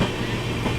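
Brief, loud rush of a passing passenger train running alongside another in heavy rain, dense rumbling noise with rapid wheel clatter very close.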